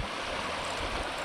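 A creek swollen with recent water, grown bigger beside an old beaver dam, rushing in a steady, close, broadband wash with no talk.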